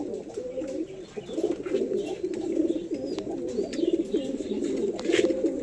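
A male Andha Lalshira pigeon coos in a steady, repeated throaty rumble close by, with soft chirps and rustling underneath and no talking.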